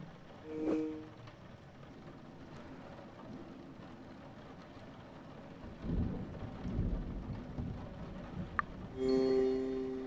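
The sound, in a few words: thunderstorm with rain in the Murder By Choice mystery video game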